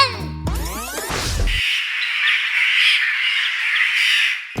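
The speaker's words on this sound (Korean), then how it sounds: "더 시끄러운 내 친구들을 소환해주마. 까마귀 때 소환." Summoned flock of crows in an animated toy-monster scene, a loud continuous chorus of harsh squawking and cawing after a burst of cartoon sound effects.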